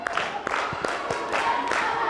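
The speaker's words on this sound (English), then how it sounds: "Let's clap for him." A classroom of children claps for a classmate, producing a run of sharp, fairly evenly spaced claps that repeat steadily, close and moderately loud.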